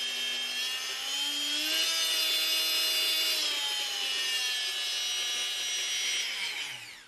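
A Bosch PMF 350 CES multi-tool runs continuously and loudly, giving a high mechanical whine whose pitch climbs as the power is turned up, steadies, then drops away as it stops at the end.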